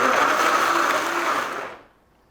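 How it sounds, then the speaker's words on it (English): A blender whirs loudly in a single short pulse while chopping salsa ingredients, then cuts off and winds down to silence. "you can totally use a blender"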